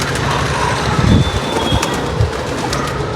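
Pigeons kept in a coop during the rainy season, several ill, coo low and continuously, a soft rolling murmur close by over faint background noise, with no talking.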